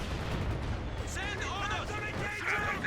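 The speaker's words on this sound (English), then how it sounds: "Got killed by a Zis barrage" A ZiS artillery barrage in Company of Heroes 2 rumbles as a continuous wash of dull booms and crackling impacts, with someone talking over the top.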